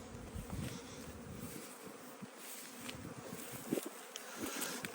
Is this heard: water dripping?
no